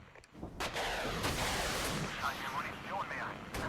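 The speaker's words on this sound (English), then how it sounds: "Alright, there we go. Artillery barrage." Artillery barrage in the strategy game Regiments, a dense continuous rumble of booming impacts and crackling blasts that stays loud and steady throughout, with sharper bursts near the start and end.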